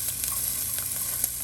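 Red onion sizzling in olive oil in a pan, a steady close-up hiss and crackle with small pops scattered through it and no one talking.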